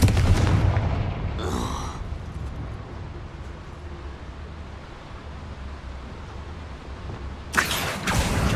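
A Confringo fire spell blasts in the Hogwarts Legacy video game. A sharp explosive burst opens, a second crackle follows soon after, and another loud bang hits near the end over a steady low ambient rumble.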